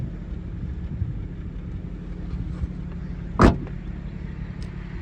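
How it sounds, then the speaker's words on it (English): Trunk lid of a silver 2000 Honda Civic DX hatchback shut once, a single short solid thud over a low steady outdoor rumble. "And this trunk shuts nicely."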